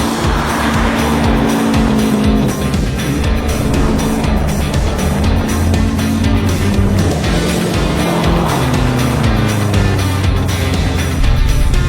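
A Corvette fitted with saw blade tires slides sideways on a frozen lake, its engine roaring loudly and steadily with revving surges and grinding scrapes throughout, no voices over it.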